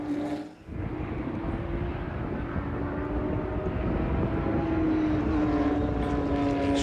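Race car engines approach at Watkins Glen in a loud, continuous droning roar whose pitch slowly climbs and shifts as the cars near, with no talking.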